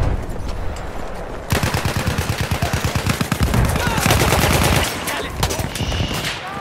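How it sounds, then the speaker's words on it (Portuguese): A dense shootout from Battlefield 1 multiplayer Conquest in Argonne Forest: rapid machine-gun bursts and scattered rifle shots crackle loudly and continuously, with a voice briefly heard under the gunfire. "Tô no meio do tiroteio aqui."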